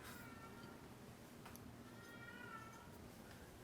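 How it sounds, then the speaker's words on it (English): A pet cat meows a few times, faint and a little distant, over steady room noise during an indoor tour of a collection of New Yorker cartoon art. "Is that your kitty?"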